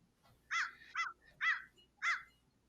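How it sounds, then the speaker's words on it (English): A crow gives four harsh, evenly spaced caws, fairly quiet and somewhat distant, with near silence between calls. "There's a crow in your tower."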